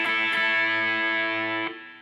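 Distorted electric guitar plays a blues rock lick: a couple of quick picked attacks open into a long sustained, ringing note, with a final accent near the end before the tone fades.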